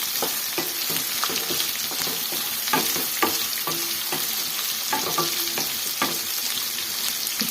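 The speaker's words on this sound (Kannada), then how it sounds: "ಇಷ್ಟು ಫ್ರೈ ಆದರೆ ಸಾಕು, ಯಾಕಂದರೆ ಇವಾಗ ಇದ್ರಲ್ಲಿ ಫ್ರೈ ಆಗುತ್ತಲ್ವ ಹೀರೆಕಾಯಲ್ಲಿ" Ridge gourd frying in a hot pan, with a steady loud sizzle throughout and regular clinks and scrapes of a spatula stirring the pieces; no voices.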